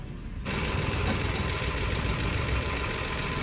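A recovery van's engine idles nearby, arriving after a brief quieter moment and then settling into a steady, loud, continuous rumble with no talk over it.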